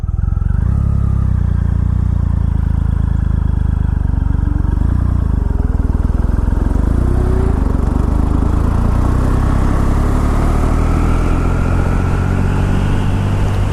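A 2.3-liter production motorcycle ridden in fifth gear, a loud, continuous low engine rumble with rising pitch as it accelerates, plus wind noise throughout.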